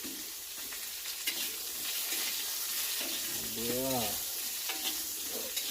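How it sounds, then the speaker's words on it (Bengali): Turnip and cauliflower fry in hot oil while being stirred, a steady close sizzle with soft scraping and clattering stirs, a brief tonal squeak near the middle. "এবার আগে একটু এই শালগমটা কপিটাকে তেলে নেড়ে দেবো"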